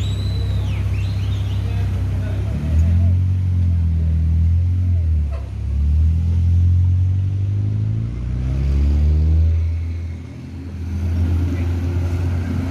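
Intercity buses of the Udo Garang and ANS lines on the Padang–Jakarta route, entering West Sumatra: a loud, close diesel engine drone that swells and eases as they pass and shift.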